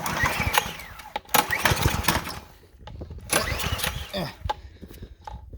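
Ryobi 2700psi pressure washer engine being pull-started, with repeated bursts of cranking and sputtering that fail to catch, separated by short pauses and some background voices.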